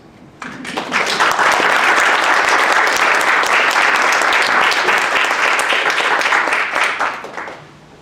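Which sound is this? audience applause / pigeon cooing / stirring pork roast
audience applause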